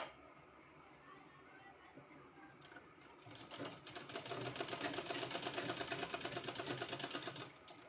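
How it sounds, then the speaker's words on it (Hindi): A sewing machine stitches fabric for a kurti neck design, starting with a few hesitant clicks, then running into a fast, even, rattling stitch that is close and fairly loud for several seconds before stopping. "इसी तरह से पूरा में सिलाई लगा देना"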